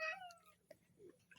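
A cat gives one short, clear meow close by, followed by a few faint small noises in an otherwise quiet room.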